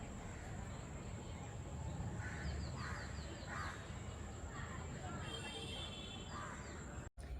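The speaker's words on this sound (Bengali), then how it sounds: "পাখিরা ডাকছে নানান রকম পাখি এক এক রকম পাখির এক এক রকম আওয়াজ" Birds call outdoors in the evening, including cawing crows, with repeated chirps and calls in short bursts over a constant low ambient noise, no voices.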